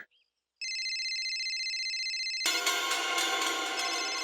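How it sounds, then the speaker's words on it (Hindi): A phone ringtone starts after a brief silence, a steady electronic tone that becomes a fuller, brighter melody halfway through, with no voices. "ओ, बड़ा जरूरी फोन है"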